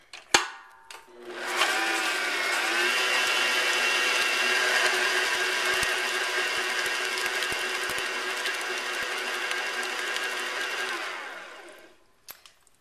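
Egg yolks, vanilla and coconut are mixed together in a bowl, giving a loud, steady motorized whir that runs unbroken for about ten seconds before stopping, with a few small clunks at the start and end.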